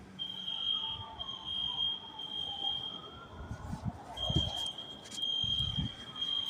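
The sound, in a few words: alarm going off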